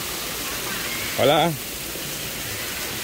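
Steady flowing water near large cages, a constant rushing hiss throughout, with a person briefly saying a greeting over it.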